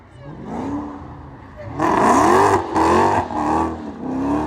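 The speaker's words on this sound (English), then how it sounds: "About to burn the tires off that bitch." A Dodge Challenger Hellcat widebody doing a burnout, its engine loud and close, revving hard in repeated surges with a rough, throaty roar and a whirring, rising whine, and a voice briefly heard beneath it.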